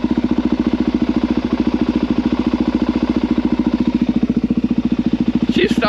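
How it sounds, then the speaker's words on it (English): A Suzuki DRZ supermoto single-cylinder engine idles steadily up close with a loud, even thumping rhythm, just restarted and running throughout, with a brief bright clink near the end. "She started though"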